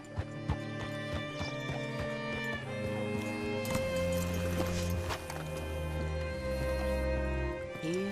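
Horse hooves clip-clopping in the video game Red Dead Redemption 2, a run of steady hoofbeats over a tonal music bed, fairly close.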